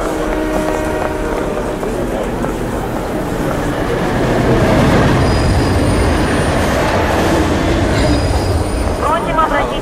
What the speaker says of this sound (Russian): Прибывающий поезд на станции не остановится.